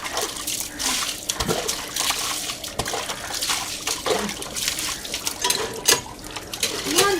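Water is drawn and poured in a home, with splashing, trickling and dripping that come in uneven bursts, heard close and fairly loud, while people talk in the background.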